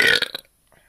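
A single loud, close burp lasting under half a second, rumbling then breaking into a couple of shorter croaks, after drinking Super Bock beer, followed by near silence.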